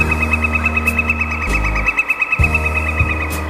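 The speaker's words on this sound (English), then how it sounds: "There's that loud-ass bird again. I swear it follows me everywhere I go." A loud bird calls repeatedly outdoors on a hillside, a steady pulsing series of hoots close by over a constant droning hum.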